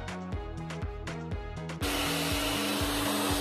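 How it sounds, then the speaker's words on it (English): A blow dryer switches on partway through to dry false eyelashes, giving a loud steady whoosh of air. Rhythmic music plays beforehand and continues faintly beneath the dryer. "Then I'm going to use my blow dryer to dry them on so that they dry exactly in place with where I want them."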